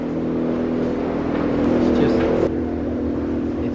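A tractor engine runs with a steady, loud low drone that swells briefly midway, with speech heard over it.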